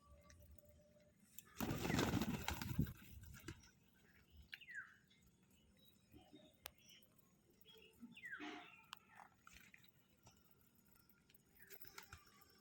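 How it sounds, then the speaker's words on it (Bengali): Pigeons, with a dove among them, gathering for grain at an early morning feed, heard as faint scattered coos and fluttering against quiet surroundings, with a louder burst of flapping or rustling near the start. "আসো, আস্তে আস্তে, অনেক পাখি, না হলে উড়ে পালিয়ে যাবে।"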